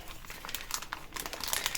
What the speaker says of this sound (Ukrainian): Звичайний беру вакуумний пакетик,